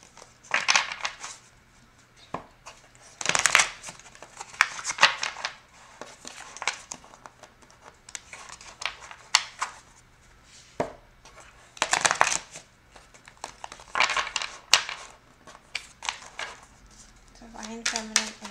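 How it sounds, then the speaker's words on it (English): A tarot card deck being split and shuffled, with bursts of crisp card riffling and slapping recurring through the clip, close and fairly loud, between quieter pauses with soft background noise. "so let's split the deck again."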